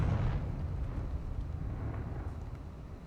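A Confringo spell blast in Hogwarts Legacy gives a deep, rumbling fiery explosion that starts strong and decays slowly over three seconds. It is heavy in the low end and sounds continuous rather than sharp.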